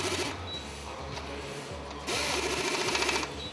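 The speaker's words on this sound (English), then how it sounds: "The operator starts tightening and the tool stops every time the correct torque is reached" A Yokota impulse tool tightens joints to a set torque, giving a close, rapid mechanical buzz that stops and restarts in short bursts, with no talking.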